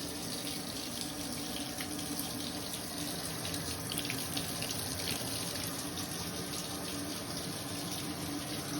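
A bathtub spout on a Midanya rain shower system runs at full strength, a steady, close, continuous rush of water pouring into the tub with no pauses and no talk.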